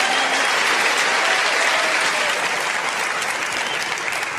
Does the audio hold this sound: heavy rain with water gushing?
no